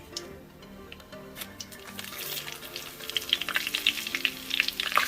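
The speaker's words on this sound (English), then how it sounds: "Now I'm gonna add some curry into the oil, and I'm using the Bainer pack of curry" Curry powder frying in hot oil, a soft sizzle that grows louder and crackles with small pops as it heats up, with faint music in the background.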